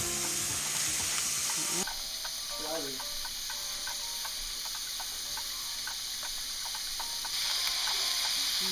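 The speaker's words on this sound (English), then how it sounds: "I'm gonna fry up your meat, shredded." Shredded meat frying in a pan on medium heat for keto burrito tacos, a constant close sizzling hiss that swells at the start and end, with faint stirring underneath.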